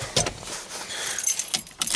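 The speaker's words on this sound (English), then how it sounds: "I'm gonna have to remove the key from the ignition for a brief moment" Car keys jangle and clink in sharp metallic bursts as they are pulled from the ignition, a cluster of close rattles near the start and another toward the end.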